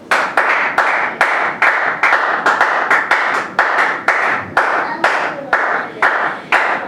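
A church congregation claps in a steady, loud rhythm of sharp repeated hand strikes, roughly two per second, acclaiming the Lord during a French-language worship service, with no talk over it.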